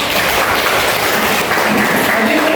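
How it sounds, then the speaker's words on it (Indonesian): Children in a classroom clap their hands together in a dense, steady burst of applause that fills the whole moment, with no talk over it. "Tepuk tangan dulu."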